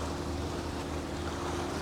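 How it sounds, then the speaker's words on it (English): A ferry setting off across the sea from Marina Island to Pangkor Island, a steady rush of engine hum, water and wind noise with no distinct events and no talk. "That's how the ferry starting its voyage from Marina Island to Pangkor Island."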